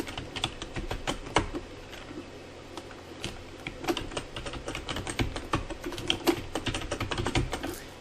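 Steady run of keystrokes on a computer keyboard while a new password is entered, close and clear, with irregular bursts of clicks and short pauses, no talking.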